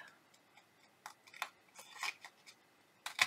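Scissors snip a tiny notch into craft paper for a tombstone treat box, a few faint, close, crisp snips with small handling rustles between them.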